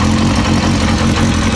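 A Yamaha Diversion motorcycle engine, just back from a carburettor repair, idles with a loud, steady, close-up rumble throughout.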